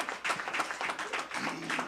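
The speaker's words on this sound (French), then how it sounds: "On applaudit le Seigneur pour eux." A church congregation giving a brief round of applause to the Lord, dense, steady clapping that is fairly faint and heard from some distance.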